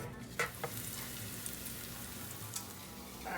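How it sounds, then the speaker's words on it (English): Onions sauté in the same frying pan used for potatoes, giving a steady soft sizzle with a few sharp clicks and scrapes of stirring, no voices over it. "So we're gonna go ahead and saute our onions. I use the same pan as the potatoes."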